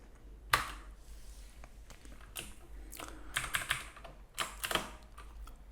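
Computer keyboard keys pressed in quick bursts to enter Excel shortcuts, with sharp clicky taps in irregular clusters close to the microphone and a low hum beneath.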